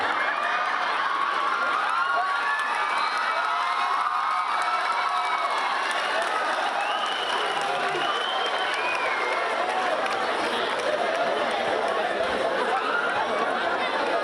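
A large crowd of young voices cheers and shouts continuously, dense and lively, with overlapping excited yells throughout.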